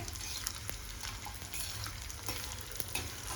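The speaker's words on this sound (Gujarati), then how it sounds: "આ રીતના હું બધો ગુંદને તળી લઈશ" Continuous sizzling and bubbling of edible gum frying in hot ghee, with frequent small crackles and pops and a low stirring rumble.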